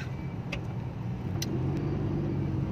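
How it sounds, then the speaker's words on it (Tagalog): Road traffic of cars in the City of Malolos gives a continuous close engine rumble and hum, with passing vehicles and a few brief higher clatters, and no talking. "Parating traffic dito."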